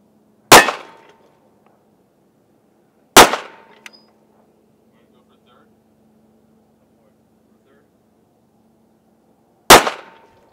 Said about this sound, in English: we got 3 shots. 1, 2, 3 with the 9mm